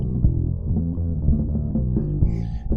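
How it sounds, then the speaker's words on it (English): An overloaded FathomFive bus pushed hard into grinding distortion, a dense, low, throbbing drone with gritty texture, steady and loud throughout, with a faint higher shimmer near the end. "I'm pushing it so hard that it's starting to kind of grind"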